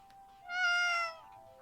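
A cat in the video game Danganronpa 2 gives a single clear, drawn-out meow in a quiet scene, with no voices over it.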